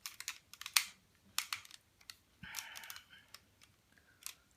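Plastic parts of an Optimus Prime Transformer toy being folded and snapped into truck mode: sharp close clicks and a brief ratcheting scrape, spaced irregularly with no talk.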